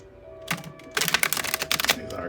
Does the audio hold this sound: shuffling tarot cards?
yes